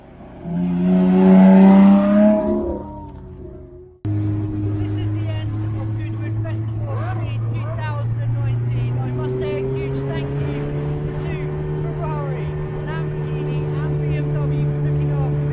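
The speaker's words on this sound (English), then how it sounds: "Pulling it now, this is the best road Ferrari they've ever built." A Ferrari 488 Pista pulls away at the Goodwood Festival of Speed, a loud engine note climbing steadily in pitch after a brief stretch of speech at the start.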